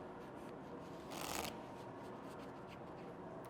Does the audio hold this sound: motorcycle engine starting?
no